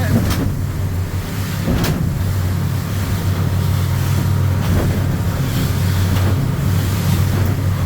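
A fishing boat motors at around 19 to 20 knots, a loud, steady engine drone mixed with water rush and wind buffeting on the microphone, heard close and continuous.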